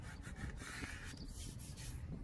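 A squeegee is rubbed firmly over a vinyl decal on a Jeep, a short, quiet, continuous scraping rub with slight rhythmic strokes and no voices.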